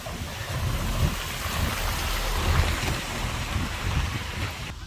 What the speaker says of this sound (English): it's raining crazy right here in Assisi